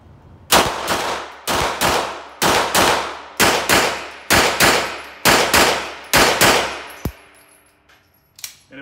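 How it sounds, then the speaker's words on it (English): Rapid string of about a dozen loud, sharp pistol shots from an STI 2011 Taran Tactical Combat Master, fired in quick pairs over several seconds with ringing decay, then a metallic clatter and quiet. "we'll go ahead and rack it and get to shooting."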